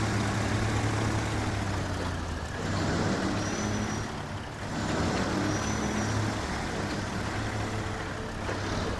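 Heavy truck engine in the off-road driving game Snowrunner, a steady low diesel drone that rises and dips with throttle, loud and continuous with no speech.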